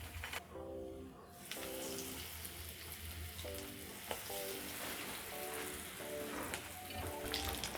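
Potato croquettes sizzling in hot oil, a steady crackling fry with rain-like spatter and occasional soft tonal clinks, moderately quiet and close, without talking.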